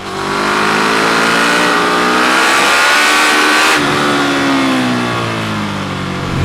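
A KTM Super Duke 1290 R motorcycle in sport mode accelerates hard, its engine note climbing steadily and loudly through the revs, breaking off briefly at a gear change, then pulling up again, close and continuous with no talking.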